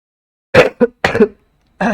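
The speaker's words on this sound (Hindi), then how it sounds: "खांसी है बहुत ज्यादा" A teacher with a heavy cough lets out three harsh coughs in quick succession, close and loud, followed by a short pause and another burst starting.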